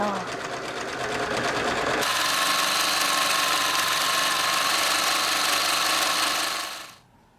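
Sewing machine running steadily as it joins pieces of patchwork fabric for a travel bag, a loud continuous stitching hum that shifts pace midway before stopping.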